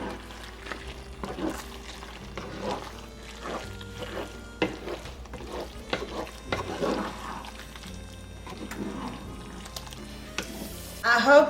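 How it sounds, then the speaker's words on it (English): Drained noodles being stirred into Alfredo sauce in a pot, heard as a series of soft wet scrapes and squelches, with a louder clatter at the end and clear gaps between strokes. "I have drained my noodles, and I am going to put them into my Alfredo sauce. And I'm going to stir this up."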